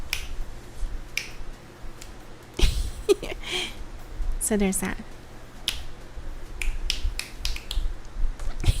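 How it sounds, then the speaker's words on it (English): Several sharp finger snaps ring out one at a time, close and crisp, scattered between stretches of a person chatting indoors, with a chair creak or small knock among them. "let's see if I can snap my fingers."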